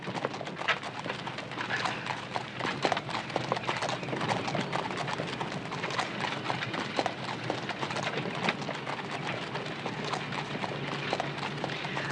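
Continuous clip-clop of horse hooves at a brisk pace, close and busy, with faint background noise.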